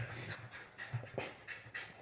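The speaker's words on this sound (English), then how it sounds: "Your dog's attacking. It's not an hour yet, man. She's still excited." A dog pants rapidly and excitedly in short rhythmic breaths, fairly close and steady, with a faint whimper-like tone and no talking over it.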